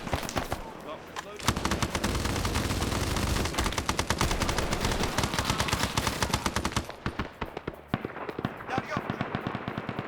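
Automatic weapons fire in a Rhodesia-themed military video game mission: dense, rapid bursts of machine-gun fire that run almost continuously, then thin to scattered loud shots near the end.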